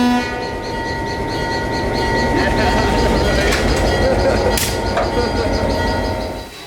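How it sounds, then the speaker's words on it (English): A live steam train is pushed slowly along the track with steady rumbling and faint clanking, a brief hiss of air rising near the end. "they push the train back down to the platform."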